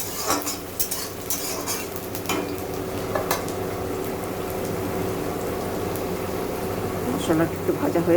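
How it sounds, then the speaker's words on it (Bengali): Chopped onion, ginger and garlic fry and get stirred in a pan, with a steady sizzle, scraping and clinks of a spatula or spoon against metal throughout, and a person talking at moments. "মশলাটা একটু ভাজা হয়ে এসছে।"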